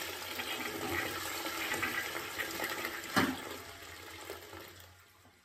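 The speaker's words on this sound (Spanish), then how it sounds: "tiramos de la cisterna para vaciarla de agua" A toilet cistern is flushed to drain it: a surge of rushing water swells to a peak, then the draining water fades away, close and alone with no voices.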